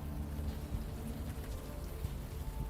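Steady, dense rain falls throughout a dark night scene in the adventure game Unavowed, a constant close hiss with scattered heavier drops and no voices over it.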